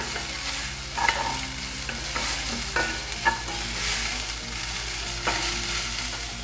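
Onions frying in a pan for shepherd's pie, a continuous sizzle broken by the scrape and knock of a spoon stirring now and then.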